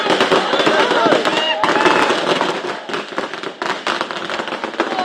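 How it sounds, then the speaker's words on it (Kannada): Fans set off firecrackers outside Prasanna cinema theatre to celebrate a film release, producing rapid, loud crackling bursts in dense rattling volleys, with people talking and a crowd nearby. "ಅಭಿಮಾನಿಗಳು ಥಿಯೇಟರ್ ಸಂಭ್ರಮವನ್ನ ಮಾಡ್ತಿದ್ದಾರೆ. ನೋಡ್ತಾ ಇರೋದು ಪಟಾಕಿ"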